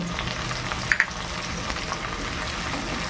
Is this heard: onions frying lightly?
yes